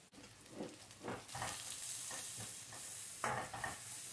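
Sautéing in a pan with salt and curry leaves, a soft, steady sizzle of frying with a few scraping stirs near the start and a brief louder burst later, close and continuous, no voices.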